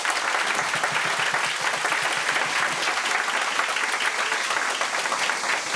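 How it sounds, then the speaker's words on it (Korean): Sustained applause from guests at a Korean traditional wedding ceremony, even, dense clapping from a crowd continuing throughout at a steady, fairly loud level. "이병관 큰손님과 집사로 도움을 주신 한국전통문화예술원 선생님께도 감사의 큰 박수 부탁드리겠습니다."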